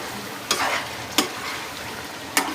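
Chicken karahi being stirred in the pan: three sharp spoon scrapes against a soft background sizzle, close and alone.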